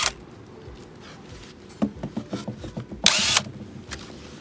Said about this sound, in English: I've grabbed a wire brush, several different types of wire brushes, but I also have an attachment for a drill.